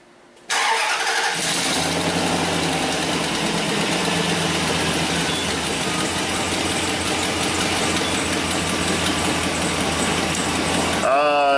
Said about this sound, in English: go ahead and start it up, Hannah.